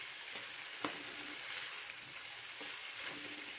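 Vegetables and boiled pasta fry in a pan with a steady, close sizzle, broken by a few sharp clicks and stirring knocks.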